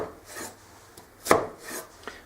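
A sharp knife slicing through onion, several short crisp cuts with one louder chop near the middle, close and alone without talk.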